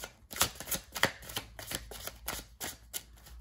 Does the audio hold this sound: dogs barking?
no